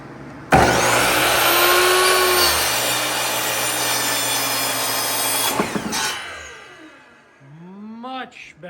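A power saw fitted with a better blade cuts through wood for a half wall, a loud sustained whine from start to near the end, then it winds down and rattles off in the quiet that follows.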